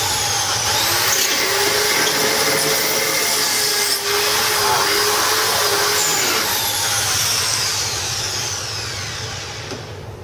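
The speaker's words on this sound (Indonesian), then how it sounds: "jadi kita jalanin mesin bornya agak ngambang," A hand-held electric drill with a 7 mm bit bores through iron, run with light pressure. The motor whines loud and close without stopping, with a slight drop in pitch near the end.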